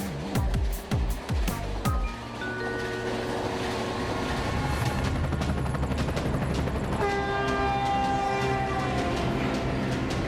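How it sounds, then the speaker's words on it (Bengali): A train rumbles steadily past with a sustained horn tone near the end, broadband clatter and roar filling the scene after a few sharp opening thumps. "ওইছে ট্রেন।"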